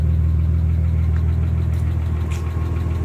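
A Nissan 300ZX Twin Turbo engine runs at a steady idle, a close, even low-pitched hum with a faint rhythmic pulse and slight mechanical ticking, no voices.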